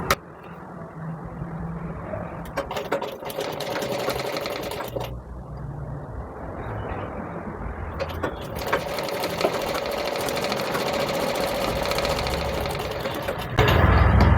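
A sewing machine stitches an umbrella frock, running close and steady in long bursts with a short pause midway, then whirring on continuously.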